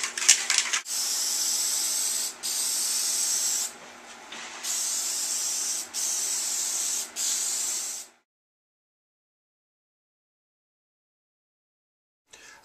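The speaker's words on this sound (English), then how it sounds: "I'm not opposed to using spray in a can, you just need to make sure you shake it good." An aerosol spray can of black paint sprays onto a wooden frame in several long, steady hissing bursts separated by short breaks, close and loud, then falls silent.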